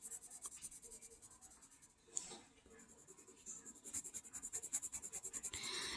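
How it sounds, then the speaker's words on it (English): Regular pencil drawing on paper, faint close scratching strokes, with a quick sharp tick midway and then a run of rapid rhythmic back-and-forth shading strokes. "I'm just using a regular pencil"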